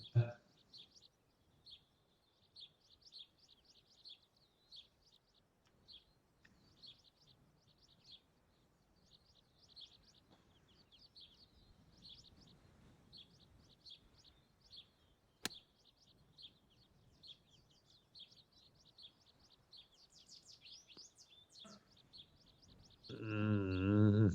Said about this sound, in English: Andy, can you identify the bird that's cheeping?